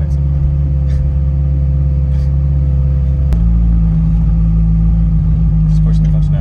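Vintage Ferrari engine idling at a low, steady rumble, then dropping to a slightly different pitch partway through as the manual transmission is worked; continuous and close throughout.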